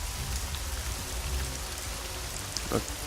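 Steady rain falls in the video game Hitman: Blood Money, a constant broadband patter filling the whole stretch with a brief louder splash near the end.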